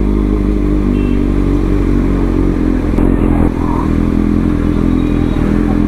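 A superbike squeezes through a traffic jam in Dumka, Jharkhand, its engine droning loudly and continuously up close, with a brief clatter partway through.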